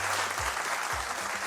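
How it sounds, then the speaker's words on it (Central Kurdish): Dense audience applause fills a studio during an episode of a Kurdish television show, a steady wash of many hands clapping close and loud throughout, with a faint low hum underneath and no talking. "چەپڵەکانتان بەڕاستی زۆر تایبەت بوو"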